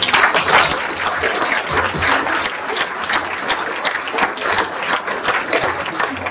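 Loud, sustained applause from a crowd at a New Year's wishes ceremony, thanking local sponsors, a thick, continuous roar of many hands clapping up close throughout.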